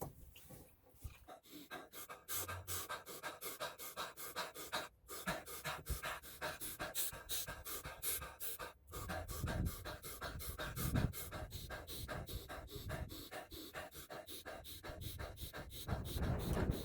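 Rapid, forceful Wim Hof method breathing, loud and close, with rhythmic panting inhales and exhales repeating steadily for the whole stretch, a few sharp gasps and brief pauses between rounds.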